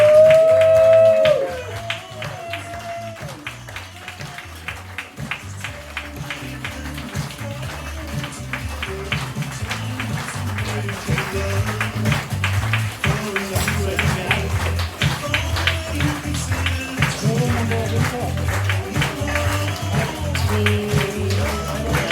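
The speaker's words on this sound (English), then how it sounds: "he's making sure that everyone claps" An audience claps rhythmically on a cruise ship, a steady patter of hands that starts sparse and grows fuller, with music playing and voices under it.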